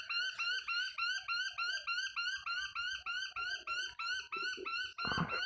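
A small bird in the Australian early morning calls loudly and repeatedly in quick, regular bursts of bright chirping, like a busy chatter, with a rustling knock near the end.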